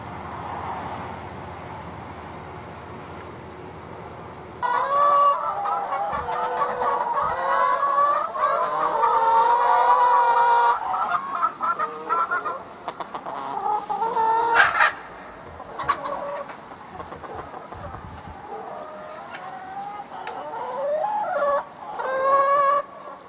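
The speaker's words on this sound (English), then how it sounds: "now let's go look at the chickens" Chickens on a farm cluck and squawk repeatedly, close and fairly loud, with occasional sharper calls breaking through after a quieter start.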